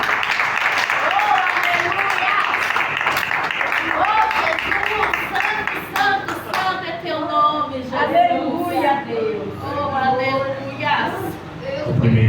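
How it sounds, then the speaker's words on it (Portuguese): A Pentecostal church congregation gives the pastor a sustained round of applause, dense and broad for several seconds. A voice carries over the clapping, then speech takes over as the applause fades. "Vamos receber o nosso pastor Rogério com palmas, em nome de Jesus."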